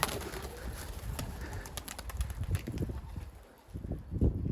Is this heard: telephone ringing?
no